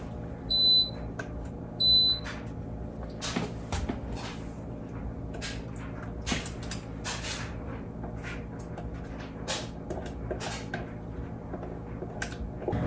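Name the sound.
appliance beeping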